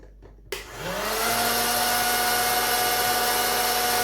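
A hot air popcorn machine's steady, loud whirring blower kicks on suddenly after a brief quiet moment and runs continuously with a constant airy drone.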